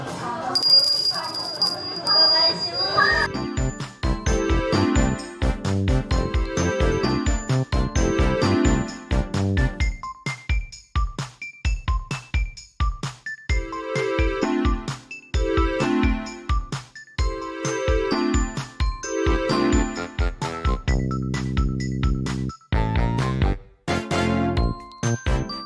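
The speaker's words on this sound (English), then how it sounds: "I have to ring this little tiny bell to call the waiter" A tiny call bell is rung to summon the waiter at a Sanrio cafe in Japan: one brief, bright ding at the start. Loud, bouncy music with a rhythmic beat then takes over for the rest.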